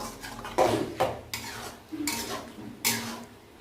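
Metal spatula scraping and stirring spice paste with soy sauce in a pan, a run of clattering strokes with a light sizzle underneath, close and moderately loud.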